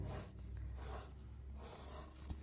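Pencil drawing on paper, heard as soft, steady scratchy strokes in repeated bursts, close and fairly quiet.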